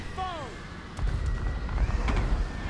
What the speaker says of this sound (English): A lot of mortar fire coming in.